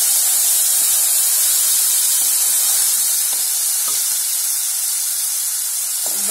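Green chillies and curry leaves, added after asafoetida, sizzle in hot tempering oil with a loud, steady, close hiss and crackle that thins slightly toward the end, with a few faint clinks and no talk.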